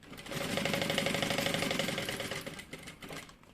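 A sewing machine runs steadily for about three seconds, stitching a pocket onto a half-moon bag with a double opening. The motor and needle make a dense, close, rapid chatter, then it slows and stops near the end.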